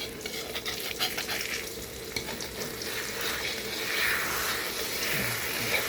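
A three-egg omelette fries in a pan, giving a steady, moderately loud sizzle and crackle with occasional stirring and scraping throughout.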